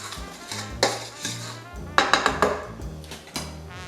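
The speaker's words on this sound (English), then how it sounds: "Put your eggs in. Mix everything real well." Eggs and other bread pudding ingredients for a New Orleans bread pudding being mixed in a bowl, with a spoon or whisk clinking and scraping against the sides in several uneven strokes, close and moderately loud, with no talk.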